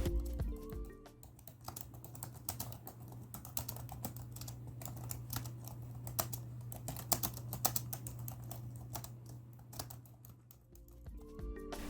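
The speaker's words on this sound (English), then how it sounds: "This is how the keyboard sounds." Steady typing on the keyboard of an Acer TravelMate laptop about ten years old, a quick run of soft, close key taps over a faint constant hum, with no one speaking.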